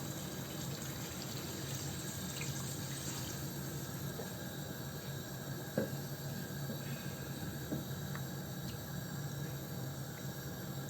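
Water from a rinsed blender jar is poured into a cooking pot of rice in a home kitchen, giving a steady, continuous splashing pour that lasts the whole stretch, close by and alone.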